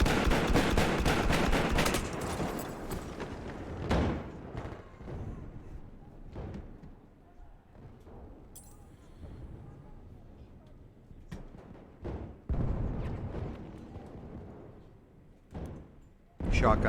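Shotgun gunfire in a first-person shooter game, including auto shotgun fire, heard as loud bursts of shots at the start and again near the end, with scattered shots and game noise between.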